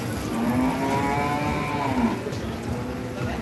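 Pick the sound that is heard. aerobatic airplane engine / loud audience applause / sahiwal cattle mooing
sahiwal cattle mooing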